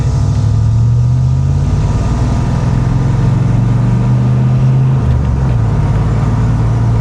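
A flood-damaged Corvette with a manual clutch is being driven, its engine giving a loud, close, steady low rumble that shifts pitch slightly as it runs, with road and cabin noise underneath.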